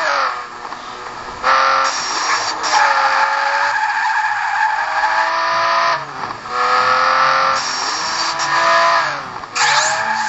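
Tires screeching nonstop as a car drifts through corners in the mobile racing game Asphalt 5, loud squeals rising and falling in pitch over a droning engine with only short gaps.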